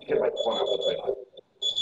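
A beeping alarm buzzer marks the close of a Kuwait stock exchange trading session, sounding as short, bright, repeated tones over a brief gap, fairly loud and near.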